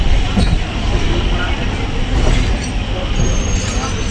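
A Sealdah–Barasat local train rolls where the line splits toward Bongaon, Barasat, Hasnabad and Duttapukur. A loud, steady rumble of wheels and carriages runs the whole time with faint metallic squeals, heard from on board.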